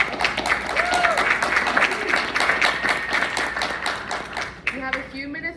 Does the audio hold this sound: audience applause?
yes